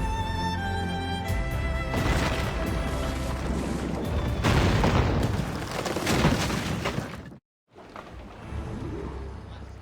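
Ship cannons boom in a naval battle in the video game Assassin's Creed Rogue, heavy repeated blasts over a dense rumble of battle noise and music, a brief silent gap near the end before the din resumes.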